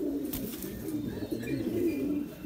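Fighter pigeons cooing close by, a continuous low throaty warbling with overlapping coos and a faint flutter or two, fairly loud with no talking.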